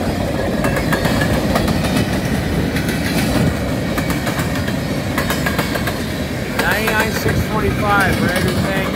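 A southbound manifest freight train led by CN ES44DC and CN/IC C44-9W locomotives rolls past close by, with a loud continuous rumble, rhythmic clickety-clack from the car wheels and some wheel squeal toward the end.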